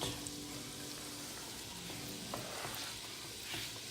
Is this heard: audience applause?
no